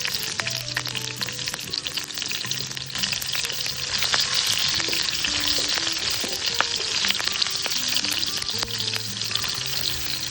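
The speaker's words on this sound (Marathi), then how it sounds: "अर्धा चमचा जिरं, कढीपत्ता, हिरव्या मिरच्या टाकू" Cumin, curry leaves and green chillies sizzle in hot oil for a tempering for Aagri-style cabbage bhaji, a steady close crackling hiss with occasional stirring scrapes, heard alone without talk.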